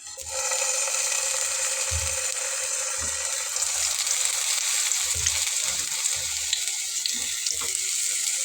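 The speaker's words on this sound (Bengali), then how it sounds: "বেগুনগুলোকে আমি দিয়ে নিয়েছি এবং হালকা করে ভেজে নেব" Eggplant slices frying in hot oil in a pan, a loud steady hiss and crackle filling the whole stretch, with a few low thumps and knocks nearby.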